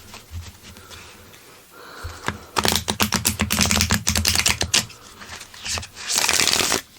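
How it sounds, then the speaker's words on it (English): Oracle card deck being shuffled by hand, a quiet riffle at first and then a loud, dense burst of rapid flapping card clicks for several seconds, pausing briefly before another loud flurry at the end. "let's go ahead and shuffle and see how that feels"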